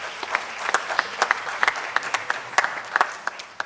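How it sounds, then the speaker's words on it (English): Audience at a symposium in the Western Cape giving a steady round of applause, moderately distant, with sharp individual claps standing out over the general clapping. "I would like us to give them a round of applause"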